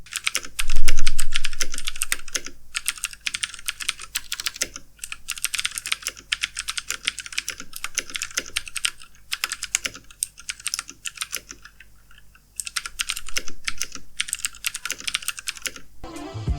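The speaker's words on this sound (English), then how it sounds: "you always know when the key has been actuated due to the click of the blue switch" Rapid, clicky typing on a HyperX Alloy FPS mechanical keyboard with Cherry MX Blue switches, sharp, crisp keystrokes in bursts, briefly pausing midway before resuming; close and fairly loud, no voices.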